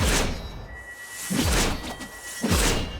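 Heavy swings of the Magistar mace, a hammer-class melee weapon in Warframe, land as three big whooshing, thudding impacts spaced about a second apart, loud and close with a low boom on each hit.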